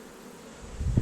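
Honey bees buzz on top of a hive during a honey harvest, a close, steady hum that swells louder near the end of the short stretch, with no voices.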